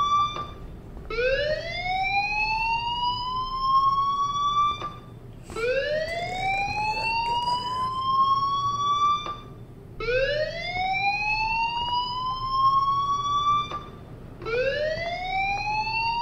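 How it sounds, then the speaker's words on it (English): A fire alarm in the video game Life is Strange sounds as a rising electronic wail, repeating four times in regular cycles with brief gaps, moderately loud and with no speech over it. "Fire alarm? That means you should be outside."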